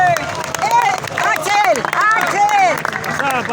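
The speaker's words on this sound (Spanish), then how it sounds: "un aplauso." A crowd at a political rally for Axel Kicillof in Plaza Islas Malvinas applauds and cheers, dense clapping mixed with voices and shouts filling the space at a steady, loud level throughout.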